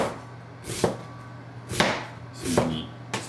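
A kitchen knife cutting food on a cutting board while making curry with apples: three separate crisp chops spaced about a second apart, close and clear against a quiet room hum.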